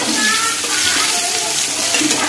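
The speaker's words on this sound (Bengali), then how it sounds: "পেঁয়াজগুলোকে একটু হালকা করে ভেজে নেবো, লালচে লালচে করে" Onions and potatoes fry in a pan with a loud, close, hissing sizzle that stays even across a short stretch.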